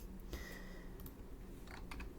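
Keys tapped on a computer keyboard while a prompt is entered, a few soft scattered clicks in short bursts over a low room hum, fairly quiet and close.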